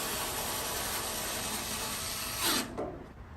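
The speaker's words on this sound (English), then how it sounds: "Now mounting the 2 screws for the mid-range bracket" A power driver sets screws to mount the mid-range bracket inside a Kenmore Elite dryer, a steady close whirring that rises into a short louder burst near the end, then cuts off.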